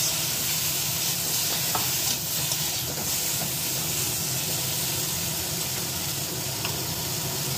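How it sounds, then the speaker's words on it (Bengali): Mustard paste stirred into hilsa fish and vegetables frying in a pan, a steady close sizzle and hiss with occasional soft clinks of stirring throughout, no talking. "এবার আমি এর মধ্যে সর্ষে দিয়ে দেবো বাটা।"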